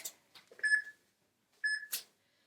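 A workout timer beeps twice, two short clear electronic tones about a second apart, amid faint clicks and handling noises.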